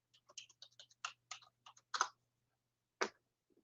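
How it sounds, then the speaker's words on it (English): Someone types on a computer keyboard at close range. Quick clusters of light key clicks run in uneven bursts, then come two heavier isolated strokes and a pause, all quiet with no talking. "I'm typing."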